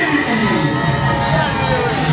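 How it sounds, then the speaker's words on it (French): Crowd cheering and applause for wrestlers at a live wrestling show, a loud, steady wash of whoops and shouts with some voices mixed in throughout. "Mesdames et messieurs, les applaudissements."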